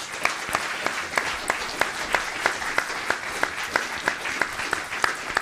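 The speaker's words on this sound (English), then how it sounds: "I think a round of applause for these questions." An audience at an Earth Institute talk with the French ambassador applauds steadily for about five seconds, a dense wash of many hands with regular sharper claps, fairly near and alone without speech.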